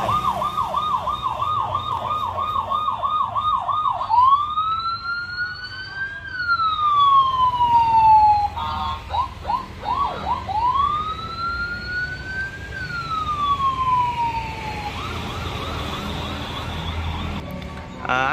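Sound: siren of a children's electric toy police vehicle

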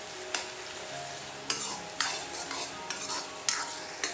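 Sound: frying and stirring ginger garlic paste in a pan

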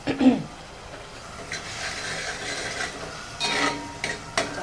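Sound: dal puri gravy spices sautéing in a pan

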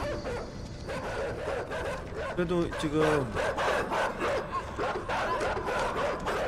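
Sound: dogs barking in the video game Inside

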